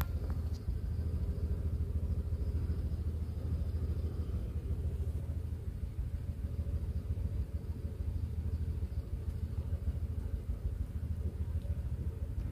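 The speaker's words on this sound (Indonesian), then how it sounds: "suara dari dalam kabin mobil saya sebelum saya pasang karet peredam" Steady low rumble inside a car cabin before door rubber seals are fitted, with a motorcycle passing close by, its engine blending into the continuous road and engine drone throughout.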